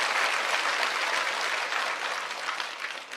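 A church congregation claps lukewarmly, a soft, dense patter of many hands heard from a distance, fairly quiet and even throughout, thinning slightly near the end, with no talking over it.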